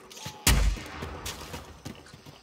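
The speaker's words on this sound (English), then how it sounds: "Flashbang!" A flashbang grenade goes off in a video game as a sudden loud burst, followed by scattered bursts of gunfire at close to middle distance.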